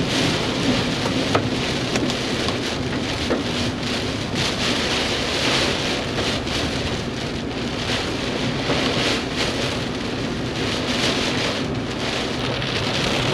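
Heavy rain pours in a steady, dense roar throughout a thunderstorm, with low rumbling thunder and some wind buffeting the microphone, with no voices.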